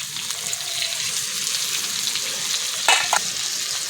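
Tomato, onion and garlic frying in oil for a vegetable bharta, a close, even sizzling hiss with a brief louder burst of spattering near the end, and no talking.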